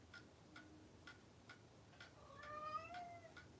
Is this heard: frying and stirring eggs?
no